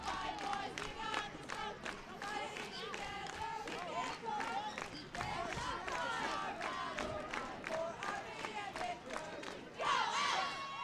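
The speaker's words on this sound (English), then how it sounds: "We got some crowd cheering, screaming, yelling." Elks fans at a high school football game against the Payson Longhorns cheering, screaming and yelling: a dense, continuous roar of many voices, rising into a louder burst near the end.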